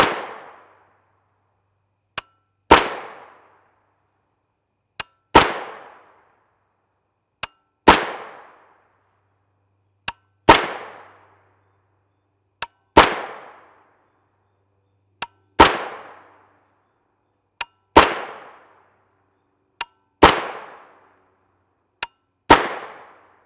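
300 Blackout rifle, a 16-inch PSA build with a Yankee Hill QD suppressor mount, firing subsonic 220gr rounds into gel: nine loud, sharp reports at a steady interval of roughly two and a half seconds. Each report is preceded by a faint click.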